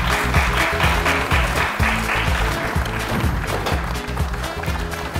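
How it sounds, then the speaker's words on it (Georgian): A studio audience on a Georgian comedy game show applauds a contestant being welcomed on stage: dense, sustained clapping over a rhythmic musical beat throughout. "აპლოდისმენტები"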